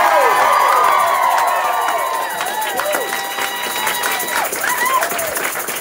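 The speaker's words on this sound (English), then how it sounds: "I want to have everybody give a big thank you and a round of applause to Ted Warren" Audience at a Beto O'Rourke town hall in Norfolk, Virginia erupts in cheering, whoops and clapping, a loud, lively crowd roar with high shouts rising over it.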